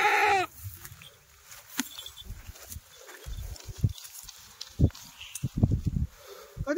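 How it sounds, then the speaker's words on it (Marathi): Kathiawari goats just off a delivery vehicle bleat in short separate calls scattered across the stretch, some loud and close, others fainter, amid shuffling and background noise. "मित्रांनो शेळ्या बघा कशा लागल्या आता"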